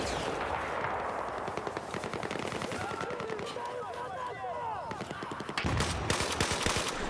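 M16A4 rifle gunfire in a Battlefield 4 multiplayer match, repeated rapid shots and bursts with other battlefield gunfire around them, loud and dense throughout, growing heavier toward the end.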